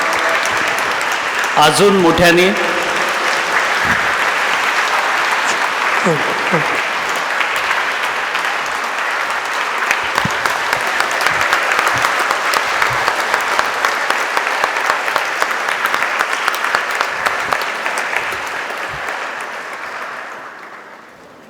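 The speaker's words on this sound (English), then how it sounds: "A big round of applause" A lecture audience breaks into long, sustained applause that fills a hall for about twenty seconds. A voice briefly speaks over the clapping early on, and the sound fades away at the end.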